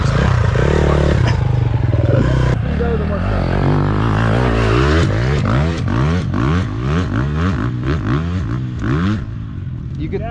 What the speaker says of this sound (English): Dude, put your bike in third gear.